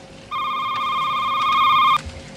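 A telephone rings in the horror video game Shift at Midnight: one steady, bright electronic trill that lasts about a second and a half and then cuts off abruptly, close and clear over a quiet background.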